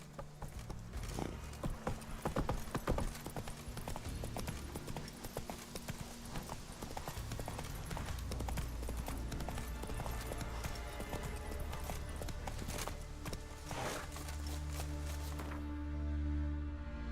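Hooves of Geralt's horse Roach in The Witcher 3 video game, a steady rhythmic clip-clop of trotting on hard ground, moderately loud and continuous with game music and ambience underneath.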